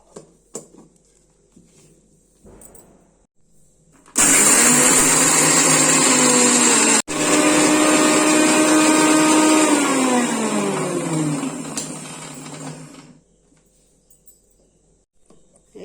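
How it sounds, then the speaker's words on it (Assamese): Mixer grinder grinding peanuts dry, without water, for chutney, starting abruptly and running loud and steady for about nine seconds with one brief stutter, its pitch sinking toward the end before it cuts off into quiet. "মই প্ৰথমতে পানী নিদিয়াকৈ বাদামখিনি মিহি কৰি লৈছোঁ"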